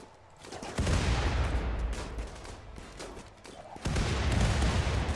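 Rapid bursts of gunfire from a raid battle in the modded video game Rimworld, loud and dense, rattling almost continuously through the whole stretch with a brief dip before another heavy volley near the end.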